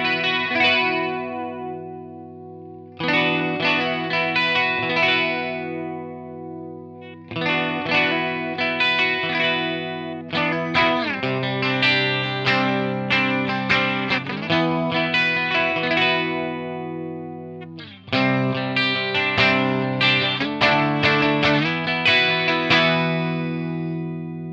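Electric guitar run through a Mooer Ensemble King analog chorus pedal, chords and arpeggios ringing loud and close in several phrases with brief pauses, a shimmering modulated wash with no talking.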